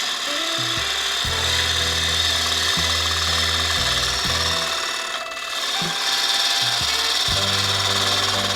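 A lathe gouge cutting a red ironbark snack bowl, riding the bevel along the side: a steady spinning hum under a continuous scraping, shaving hiss that pulses with repeated cuts and dips briefly midway.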